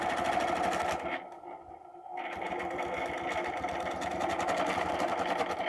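A sewing machine stitching an arc across blue fabric, a fast steady mechanical whir that stops briefly for about a second before resuming at full speed, close and alone.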